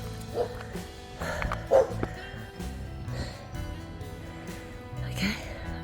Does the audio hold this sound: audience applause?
no